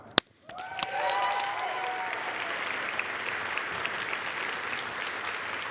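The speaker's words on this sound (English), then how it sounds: "Clapping is always suitable." A crowd at the Finnish Game Awards 2023 breaks into sustained applause after a brief sharp clap, the clapping dense and even, heard from within the audience.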